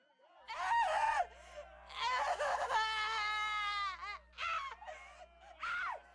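A woman screams hysterically in a series of high, strained wails and shrieks separated by brief gasping pauses, loud and close with nothing else beneath.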